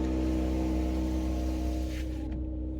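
Mercedes-AMG GLE 53 Coupe 4Matic+ with EQ Boost engine idling just after startup: a steady, close, low engine hum with even harmonics, fairly loud throughout, tapering slightly near the end.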